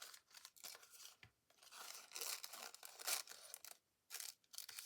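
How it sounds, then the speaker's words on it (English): Scissors cut through craft card stock to make a fold-over tag, giving a run of close, quiet snips and crisp paper rustles with short pauses between cuts. "I'm just cutting this so that I can fold it over."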